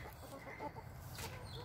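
Hens in a backyard chicken run outside the coop, a flock of around 22, clucking softly and close by in short irregular bursts over a low steady background, with no talking.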